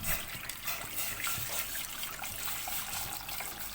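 Water trickles and splashes steadily into a pot of tarhana soup cooking with butter, tomato paste and garlic, a continuous close pour with no talking.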